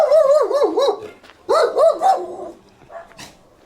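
A big dog near an abandoned fort at Costa da Caparica, Portugal, lets out a series of loud, close, drawn-out howling barks in two bursts, followed by a couple of fainter yips.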